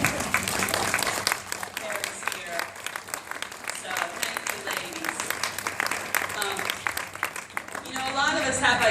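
Sustained applause fills a room at a book ceremony as the audience claps for the previous executive committee, steady and dense for the whole stretch with some voices mixed in.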